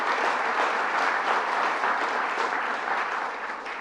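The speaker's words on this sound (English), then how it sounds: "Let's give him a round of applause." Steady applause from an audience greeting Mayor Quill at a drinking water quality announcement, dense and sustained for several seconds before easing slightly at the end.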